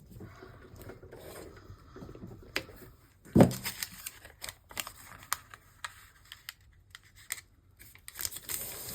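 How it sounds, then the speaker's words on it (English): Paper glued into a shell collector art journal is trimmed with scissors, producing close, intermittent rasping snips and rubbing, including one sharper cut near the middle. "I think I'm just going to glue this on here and then trim."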